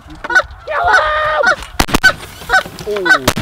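Loud, nearby goose honks and drawn-out calls from birds working toward hunting decoys, repeated in uneven bursts with sharp clicks in between.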